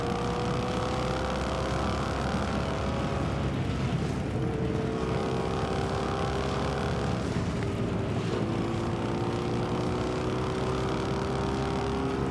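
Motorcycle engine in the video game Fortnite, a steady continuous drone with rising and falling pitch as the bike speeds up and shifts, loud and up close throughout, with no voices.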